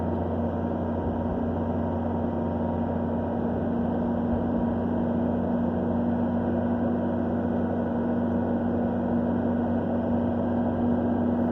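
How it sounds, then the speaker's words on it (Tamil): Toyota Innova Crysta engine pulling steadily uphill in second gear at about 40 km/h on a hairpin-bend mountain road, a constant droning hum with a low tonal note and no pauses, heard alone. "வண்டி சவுண்டு மாறும்போது யாரும் பயப்பட வேண்டாம். செகண்ட் கியர்ல தான் போயிட்டு இருக்கேன்."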